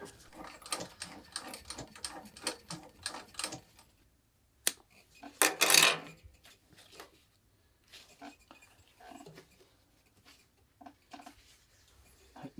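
A sewing machine stitching thick, dense leather for a falconer's glove chatters in rapid bursts, followed by a short whirring run, then scattered clicks and taps of the machine at work.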